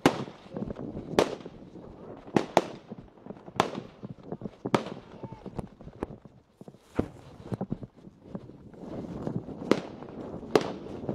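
Troops fire gunshots across an open field in combat, with sharp, loud cracks at irregular intervals, some single and some in quick pairs, echoing over steady background noise.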